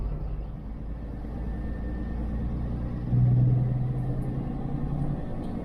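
Loud Kenworth truck engine driving, with a steady deep rumble throughout that swells louder around the middle as the truck pulls on a grade, close and continuous with no talking.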